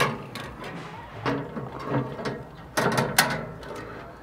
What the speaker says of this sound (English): I'm going to throw on my accessory rack and my heat deflectors.